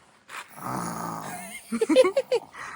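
A small child at a beach outing imitates snoring with a run of breathy, growly snorts in quick bursts, following a stretch of adult talk.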